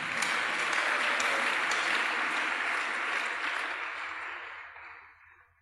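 A church congregation applauds during a worship service in a large sustained wave of clapping that fades out toward the end, with no talking.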